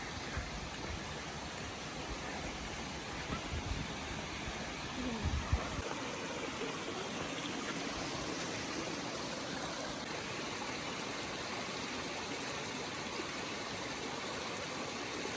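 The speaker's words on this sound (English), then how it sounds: "So the stream coming down." Steady broadband rushing of a flowing mountain stream in the Great Smoky Mountains fills the scene continuously with a faint low rumble underneath.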